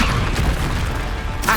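Confringo spell blast in Hogwarts Legacy, a loud rumbling burst with a booming low roar that sustains briefly, then a sharper crackle at the end.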